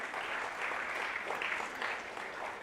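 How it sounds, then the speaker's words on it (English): Crowd applause at the final-day ceremony of the Tech Mahindra Global Chess League, a soft, even wash of clapping that continues steadily throughout. "Please welcome them with a huge round of applause."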